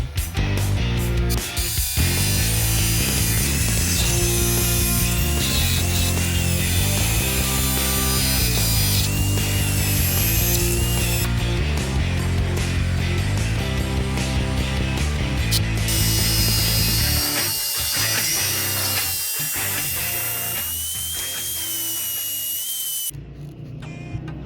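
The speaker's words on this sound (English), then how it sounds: "I have this grinding attachment for my drill. I gave it a try and it cut through the pipe perfectly" A power drill fitted with a grinding attachment cutting through PVC pipe, a loud continuous whirring grind with shifting pitch as the bit bites, then a brief drop and pause near the end before resuming.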